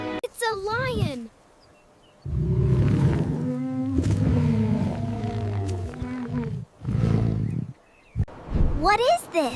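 A lion roaring in several long, deep, rumbling bursts, loud and close, with a voice heard briefly before and after.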